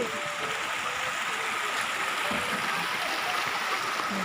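Steady rushing flow of the Pha Tat waterfall stream in Srinagarind Dam National Park, a continuous broadband wash of water filling the whole clip at a close, even level, with no voices.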